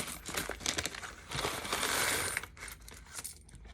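Loose coins pour out of a paper bag, a jingling metallic cascade mixed with paper crinkling, fairly close and continuous before trailing off.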